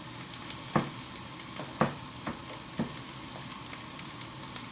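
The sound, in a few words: vegan shrimp slices frying in a stir fry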